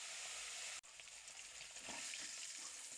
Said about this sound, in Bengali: উল্টিয়ে পাল্টিয়ে আমি মাছটাকে লালচে করে ভেজে নিচ্ছি।